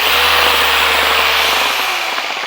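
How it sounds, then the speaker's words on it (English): A car polisher runs on the paint of a Mercedes-Benz AMG GTS with a loud, steady whirring motor whine close by that eases down slightly toward the end. "Now we are using this amazing polisher"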